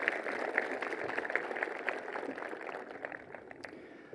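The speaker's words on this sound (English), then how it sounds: "How about one more round of applause for our accomplishments of our beautiful" Applause from a graduation audience at a high school commencement ceremony, a steady, dense patter of clapping hands that holds throughout and slowly thins toward the end.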